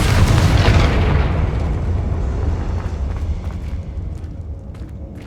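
A Confringo blasting spell explodes in Hogwarts Legacy, one loud, deep boom that rolls out into a long rumbling decay with faint crackles trailing off.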